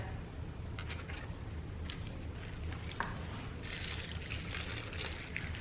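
Boiling water pours steadily in a continuous liquid rush with faint splashing, close by, with a few clinks and bumps of kitchenware.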